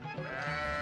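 A sheep bleats once, a short, steady, nasal cry heard close up and alone.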